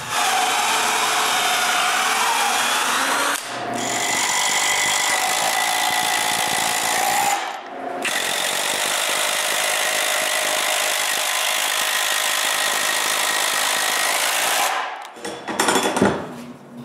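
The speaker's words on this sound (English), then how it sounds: "drill some pilot holes, and finally screw the plate in place" A power drill bores pilot holes and drives screws to fix a plate on a moveable wooden workbench caster, giving long, steady whining runs broken by short pauses, with a rougher burst at the end.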